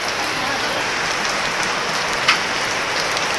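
Steady rain patters down on a vegetable market, a dense even hiss of drops on surfaces with one brief sharper splash partway through, no voices.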